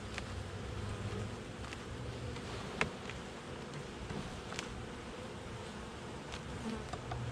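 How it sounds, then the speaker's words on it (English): Honey bees buzz around an open hive during an inspection, a soft, steady outdoor hum with a few faint clicks and knocks, no talking. "there's fixing to be a bunch of bees up in this hive"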